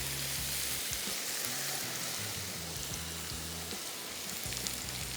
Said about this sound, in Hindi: अब सबसे पहले इसमें शामिल करेंगे चॉप किया हुआ लहसुन, और थोड़ा ज़्यादा है, 3 खाने के चम्मच। इसको हल्का सा करेंगे फ्राई।